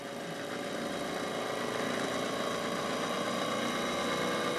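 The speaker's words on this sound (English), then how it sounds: "I'm going to speed the RPM up a little bit" Engine of a Sun 404 running continuously at a steady, loud drone, with a dense even texture and no breaks or obvious changes in pitch.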